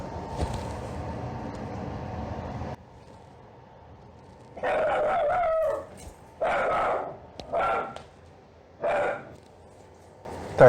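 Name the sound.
dog barking at a cat outside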